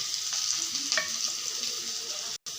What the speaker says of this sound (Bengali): এই যে আলুটা পুরো লাল করে ভেজে নিয়েছি